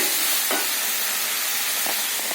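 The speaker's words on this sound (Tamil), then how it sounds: "தக்காளி நல்லா வதங்கி வறுத்தது, அப்புறம் மசாலா பொடி போட்டு பாருங்க" Tomatoes fry with masala powder in a pan, a steady loud sizzle and hiss throughout, with a couple of soft stirring scrapes and no talking.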